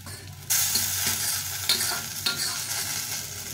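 Fried eggplant stirred into a hot pan for an aloo baingan bharta mash, with a loud, close, steady sizzle that jumps up as the pieces go in, then a few scraping stirs, no talking.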